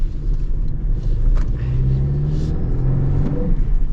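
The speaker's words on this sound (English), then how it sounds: "Just to hear the turbo go whoosh." Turbocharged 2024 Toyota Tacoma pickup with a manual gearbox accelerating from inside the cab, a steady loud engine drone with rising tone, though no distinct turbo whoosh stands out.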